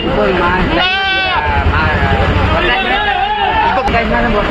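Bleating at a busy goat market in Puthiyamputhur: a loud, wavering cry near the start, then fainter calls, all under constant crowd chatter and people talking close by.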